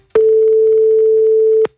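A single long, steady electronic ring tone plays on a telephone line during a call, loud and clean, with an abrupt start and stop and nothing else heard around it.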